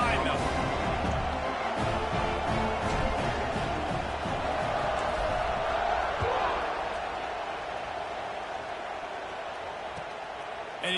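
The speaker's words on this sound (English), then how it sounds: "this crowd now ready to get behind them" A stadium crowd in the College Football 26 video game roars steadily around a kickoff, a dense, sustained wall of cheering that holds loud throughout and eases slightly near the end, with a commentator talking over it.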